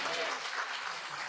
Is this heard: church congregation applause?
yes